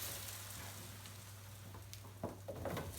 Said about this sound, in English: hear a bit of sizzle there